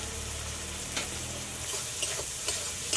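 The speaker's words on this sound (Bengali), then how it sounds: "এগুলো সব একসাথে লাল লাল করে একটু ভেজে নেব" Shrimp frying in a pan with salt and turmeric gives a steady broadband sizzle, broken by a few soft stirring scrapes and clicks, close and continuous with no talk.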